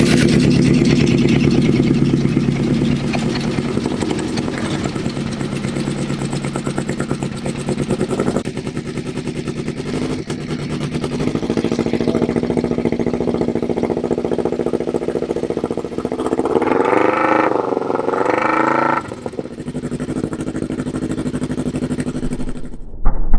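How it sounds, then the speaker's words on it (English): A Kawasaki ER5 motorcycle fitted with an aftermarket exhaust can, close up and loud, idling with a steady low rumble, then revved several times with rising and falling engine pitch before settling back and ending abruptly. "we'll start it up, see how it sounds"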